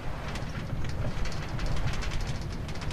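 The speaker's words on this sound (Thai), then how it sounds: "ทำไมมีรถราง2คัน" A minecart rolls along rails in Minecraft, a rumbling, rattling run with irregular clacking bursts over a continuous low roll, moderately loud and unaccompanied by speech.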